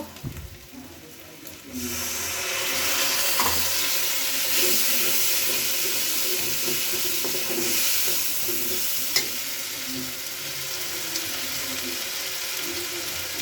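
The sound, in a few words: stir-frying spices with onion and garlic for mutton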